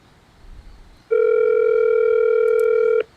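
A steady telephone dial tone starts about a second in, loud and unbroken, and runs for roughly two seconds before cutting off while a call is placed to a seller. No one speaks over it.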